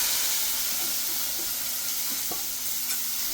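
Spices spluttering and sizzling in hot oil during tempering for avarakkai kootu, a steady bright hiss broken by a few sharp pops, close and alone.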